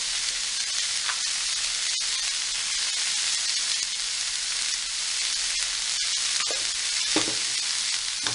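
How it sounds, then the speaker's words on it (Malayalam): Shredded cabbage and carrot sautéing in a hot pan for veg momo filling, a dense continuous sizzle and hiss up close, with occasional stirring scrapes and no voices. "നന്നായി വഴറ്റുക."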